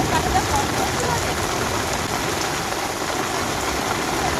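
Steady rain pours down on a yard at a rural home in the Sundarbans, giving a dense, continuous hiss of falling water that stays even and close throughout.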